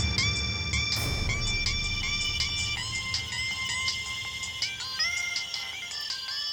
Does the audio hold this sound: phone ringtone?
yes